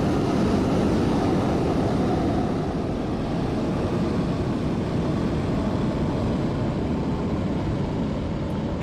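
A Lufthansa A320neo airliner in Microsoft Flight Simulator 2020 gives a steady, loud jet engine roar at London Heathrow. The drone stays constant and broadband throughout, with no talk over it.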